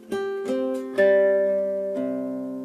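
A fingerstyle guitar plays a chord by plucking a few strings one after another, then lets it ring with a final added note, close, clean and clear with no voices.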